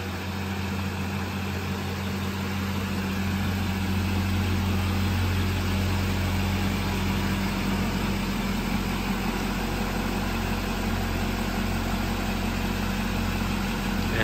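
A 2016 Chevrolet G3500 Express ambulance with a 6.6-liter Duramax turbo diesel idles steadily, a low, even engine hum with a continuous drone that holds unchanged throughout.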